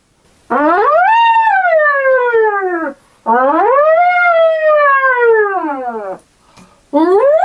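A puppet's voice imitates an elephant trumpeting in two long, loud, wavering blasts that rise and then slide down, followed by the start of a third.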